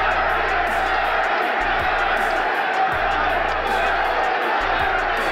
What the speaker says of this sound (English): Berbick continues to press the attack as the crowd starts a chant, Larry, Larry.